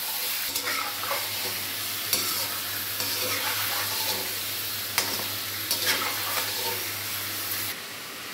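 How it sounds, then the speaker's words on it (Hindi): Chicken, about one and a half kilograms, sizzles and fries in oil in a kadai, with a steady broadband hiss, occasional stirring clatter and sharp spatters throughout, close and continuous without speech. "अभी चिकन को 2 से 3 मिनट के लिए ऑयल के अंदर अच्छे से फ्राई कर लेंगे"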